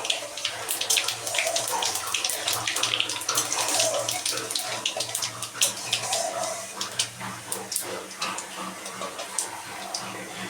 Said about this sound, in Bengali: ফোড়ন দিয়ে দিলাম।